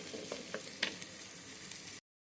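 Ginger-garlic paste and turmeric sizzle in a hot frying pan while being stirred, with soft scraping clicks and crackles over a steady fry for about two seconds before it cuts out.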